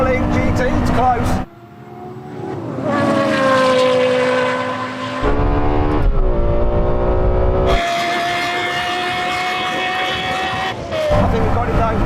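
A Porsche Carrera GT accelerates hard in a drag race against a Lexus LFA, a loud high engine note climbing through the gears with sharp shift breaks, heard close from inside the car while people talk over it.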